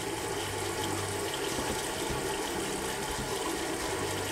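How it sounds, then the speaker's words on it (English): Warm tap water runs steadily into a sink while a shaving brush and razor head are rinsed, a continuous moderate splashing hiss with no talk. "starting to get some warm water in and out"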